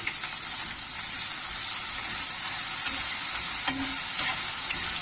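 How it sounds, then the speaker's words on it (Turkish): Potatoes fry in about a glassful of hot oil in a pan, making a steady, close hiss of sizzling with a few soft bubbling pops and faint clicks, and no one speaking. "Ve ısındıktan sonra patateslerimi içine katıyorum."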